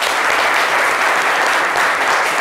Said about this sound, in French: je pense que ça méritait des applaudissements